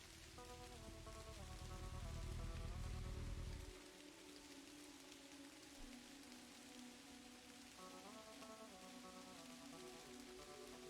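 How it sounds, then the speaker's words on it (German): Steady rain pattering on surfaces at a cemetery in the adventure game Kathy Rain, heavier and louder for the first few seconds, then a softer continuous hiss beneath melodic background music. "Hier regnet es auch."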